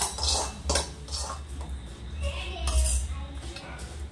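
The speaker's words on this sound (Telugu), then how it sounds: "ఈ బాండీలో అయితే ఇది తిరగా వేసుకుంటాను ఇలా." Bitter gourd fry being flipped and scraped in a metal pan for a village-style dish, with sharp clanks and scrapes of utensil on metal over a low steady hum and some speech.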